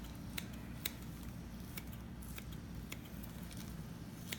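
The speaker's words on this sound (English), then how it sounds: "Some parts I can tell the connective tissue from the muscle fiber, so it's easy, I can just snip it" Quiet, crisp snips of scissors cutting connective tissue during a fetal pig dissection come every fraction of a second, small and close against a low steady background hum.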